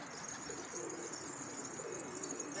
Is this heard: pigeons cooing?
yes